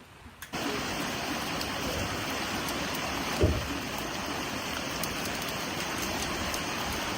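Steady rain falls outdoors in a rural countryside setting, a dense even hiss that starts abruptly and continues loudly throughout, with one brief thump partway and no talking.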